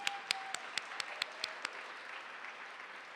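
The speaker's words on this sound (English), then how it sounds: "Give yourselves a round of applause" A forum audience applauds the women elected officials present, with a few loud, distinct claps standing out early over a softer, spreading patter of applause that thins toward the end.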